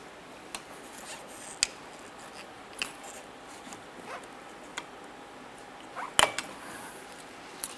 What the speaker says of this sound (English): You're going to put your pry tool in here, gently pry up.